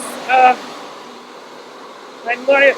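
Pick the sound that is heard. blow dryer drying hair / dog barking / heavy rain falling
blow dryer drying hair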